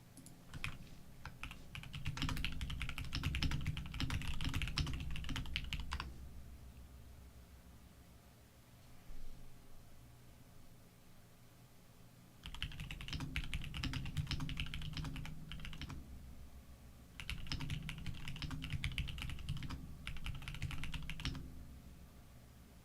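Rapid typing on a computer keyboard comes in three clattering bursts of dense key clicks, separated by quieter pauses, close and moderately loud.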